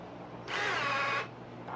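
A power drill driving a screw while assembling a raised garden bed whines at high speed for under a second, stops briefly, then starts spinning again; close and loud, with no voices.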